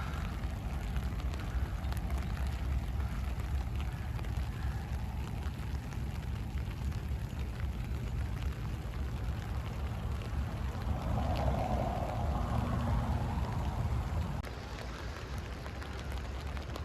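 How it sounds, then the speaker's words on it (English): Steady rain patters continuously outside an abandoned house, with a low, constant rumble underneath, even and unbroken until it eases slightly near the end. "Rain's coming down good and steady now."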